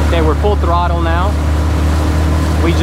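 A Wright Water 12 skiff's outboard motor runs hard at full throttle, a loud steady drone with strong low hum throughout, while a voice talks briefly over it near the start.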